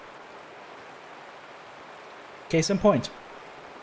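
Steady rain from the Escape from Tarkov video game hisses as a constant wash throughout, with someone speaking briefly near the end over it.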